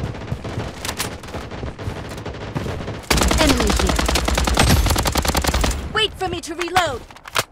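AK-47 automatic fire in the game Blood Strike rattles in rapid, loud bursts, with a sustained volley at mid-clip, followed by sparse in-game effects and some voice chatter.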